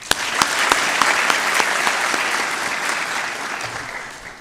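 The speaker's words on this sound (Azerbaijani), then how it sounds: "Gəlin, buradakı müəllimlərimizin timsalında sertifikatlaşmada uğur əldə edilmiş bütün müəllimlərimizi alqışlayaq." An audience of teachers applauds at a certification ceremony, with loud sustained clapping from many hands and a few sharp individual claps standing out at the start before it slowly fades.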